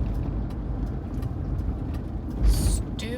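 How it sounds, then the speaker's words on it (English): Steady low road rumble of a car being driven, a continuous drone heard from inside, with a brief louder swell near the end. "I was just driving to the gym."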